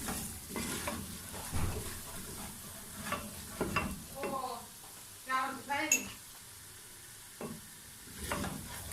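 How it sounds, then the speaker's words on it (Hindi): Spices frying and being stirred in a pot for goat trotter curry: soft sizzling beneath intermittent scraping strokes of a spoon against the pot, with a few light metallic clinks, all close and fairly quiet. "तमाम मसाले डालने के बाद हम इनको भून लेंगे अच्छी तरह।"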